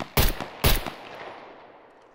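Two sharp, loud gunshots about half a second apart come from a ten-round firearm in the survival game SCUM, each followed by a decaying echo tail.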